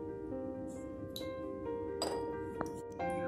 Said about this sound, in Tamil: கொஞ்சமாக ஐஸ் க்யூப் சேர்த்துக்குவோம்.